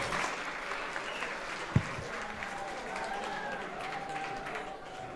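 Applause for robotics teams at a FLL robotics competition in Košice, a steady wash of clapping from the audience throughout, with a sharp thump partway through and a voice faintly audible beneath.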